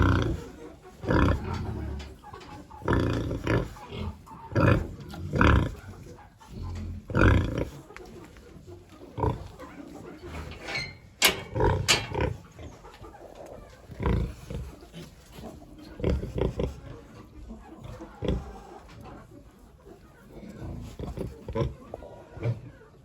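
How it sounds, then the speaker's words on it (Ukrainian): Small piglets on a farm grunting and squealing steadily in a pen, with repeated snorts and occasional sharp squeals close by, and a person's voice heard faintly now and then. "Класно, звісно, оці поросятка манюнькі."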